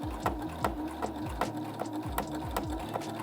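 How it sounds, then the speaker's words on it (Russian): A sewing machine runs a seam on a silk pillowcase, its rapid needle clatter repeating in a steady mechanical rhythm with regular soft thumps, close and alone without speech. "Проложили строчку на одной детали и на второй."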